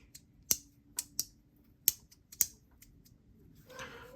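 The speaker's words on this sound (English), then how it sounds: "you feel the magnets clicking around" Magnets inside a small haptic fidget coin snap together in about six crisp, separate clicks at irregular intervals. The clicks are close and sharp against a quiet background, and a softer rustle follows at the end.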